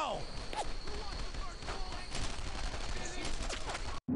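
Gunfire rattles through the World War II shooter game Brothers in Arms: Earned in Blood, dense overlapping shots and bursts in a continuous loud barrage while a voice talks over it.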